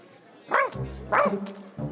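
A cartoon dog barks twice in quick succession, loud and close, followed by a shorter yip at the end, with brief whimpering tones between the barks.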